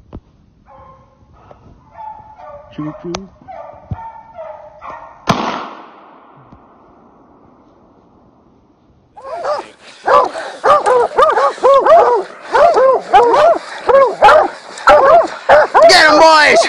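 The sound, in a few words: hunting hounds barking and yipping while chasing a coyote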